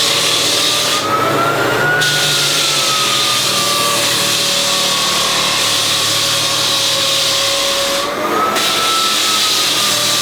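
A basic floor sanding machine run across wood against the grain, a loud continuous close whine and grinding roar with a slowly wavering pitch, a couple of brief bursts of extra hiss, and no voice.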